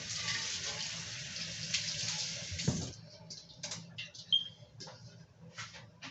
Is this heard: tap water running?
yes